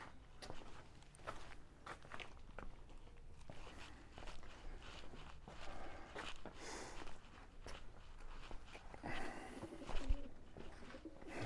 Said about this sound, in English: Here be pigeons.